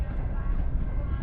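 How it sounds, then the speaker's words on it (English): A train rumbles steadily past close by outside a brewery, a continuous low, loud roar with faint rail clatter filling the whole moment, and a voice murmurs faintly beneath it. "sorry about the train"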